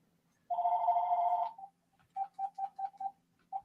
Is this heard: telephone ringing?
yes